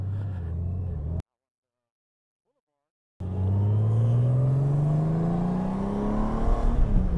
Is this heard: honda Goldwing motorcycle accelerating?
yes